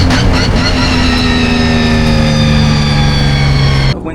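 A BMW E46 M3 race car roars on the Snetterton circuit during a Britcar endurance race, a loud, steady engine drone with a slowly falling pitch that cuts off abruptly near the end, commentary running beneath it.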